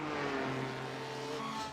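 A race car engine drones steadily in a sim racing game at Circuit de Catalunya, loud and continuous with a sustained harmonic whine and no talk over it.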